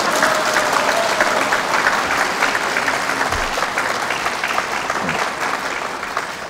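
A lecture audience at a Korean character-education talk breaks into sustained applause, a dense, even wash of clapping that holds steady and fades slightly near the end, with no speech over it.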